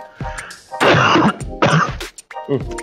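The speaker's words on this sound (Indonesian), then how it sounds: "Lagi batuk." Someone coughs and clears their throat several times in harsh, raspy bursts, close to the listener, with brief pauses between.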